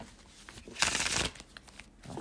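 Tarot cards shuffled by hand, a quick close papery riffle lasting about half a second amid quiet room sound.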